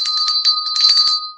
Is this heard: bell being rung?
yes